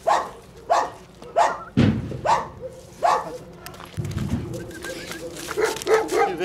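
Central Asian Shepherd dogs bark outdoors, a series of loud, deep, evenly spaced woofs from nearby, broken by a couple of heavy thuds, with a voice calling to them.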